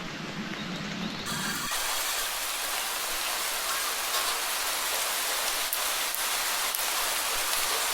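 After a brief muffled opening, heavy rain takes over in a constant broad hiss, with occasional sharper drops landing nearby.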